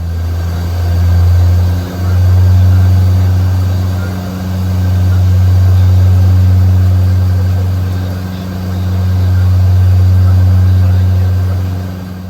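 Saab 340B turboprop propellers heard from inside the aircraft, a loud steady drone with a strong low hum that dips briefly, then settles and swells as the propeller speed rises to maximum RPM.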